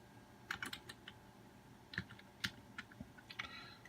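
Typing on a computer keyboard, close and clear, in short irregular clusters of keystrokes with brief pauses between, over a low steady background hum.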